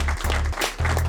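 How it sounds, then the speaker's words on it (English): A short burst of clapping and cheering from a podcast audience wraps up a stream, loud and dense, with a low steady hum sitting beneath it. "a round of applause."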